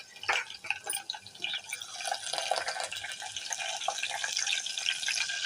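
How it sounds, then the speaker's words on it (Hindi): Peppercorns and chopped green chillies sizzling in hot garlic tadka, a steady crackling hiss with scattered pops that builds and stays busy throughout, with no talking. "अब इसमें डालते हैं गोल मिर्चें और हरी मिर्चें कटी हुई।"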